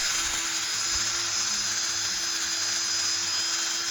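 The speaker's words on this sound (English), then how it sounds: "This being a drill, that is." Continuous high-pitched whine of a spinning drill motor, steady and close, with a faint low hum underneath and no speech.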